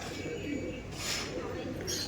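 Male pigeons coo softly amid a noisy, crowded loft of birds, a faint low murmur under a steady hiss, with a voice present.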